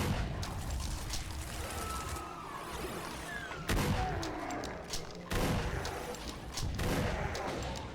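A gun fires repeatedly in the video game Suburbs, a rolling run of shots and booming impacts that goes on for several seconds under a dense, noisy battle.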